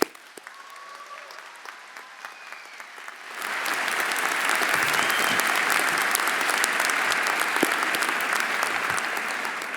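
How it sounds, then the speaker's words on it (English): Audience applause at a 2025 MBA commencement ceremony at Carnegie Mellon's Tepper School of Business swells suddenly and then holds as a dense, steady clapping that fills a large hall. "join me in a round of applause to those who have helped them make this day possible"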